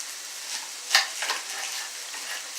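Onion frying in a pan for a stir fry, a steady soft sizzle with a few brief sharper crackles partway through, heard close and alone with no talk.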